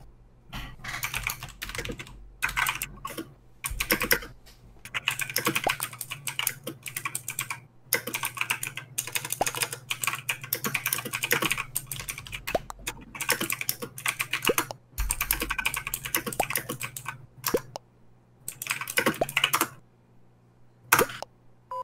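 Fast typing on a computer keyboard during an Among Us game chat, bursts of clattering keystrokes close up, broken by short pauses, with no voices.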